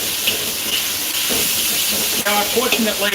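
Bacon sizzling as it hits a hot wok on a gas wok burner, a bright steady hiss under a loud exhaust fan, with crackles building near the end while someone talks.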